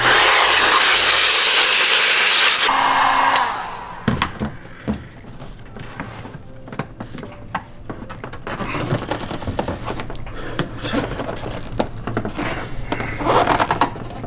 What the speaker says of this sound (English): And just blow the dust up from inside of the headlight.